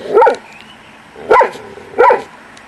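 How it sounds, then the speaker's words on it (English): Dogs barking loudly and close by, three separate sharp barks spaced about a second apart, with a quiet pause between each; no talking. "these two are just going to bark and bark and bark"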